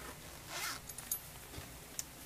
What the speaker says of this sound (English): It zips around.